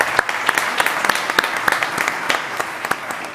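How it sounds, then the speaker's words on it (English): An audience at the South Summit 2023 Playground Stage applauds its panelists, with distinct individual claps standing out over a thinner wash of clapping in a moderately sized crowd. "please give a big applause to our panelists today"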